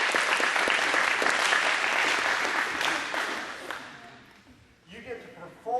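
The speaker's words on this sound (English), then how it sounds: "Give her a big round of applause." Applause from the audience at an after-prom hypnotist show, a loud sustained clatter of many hands for about four seconds that fades out, followed by a faint voice.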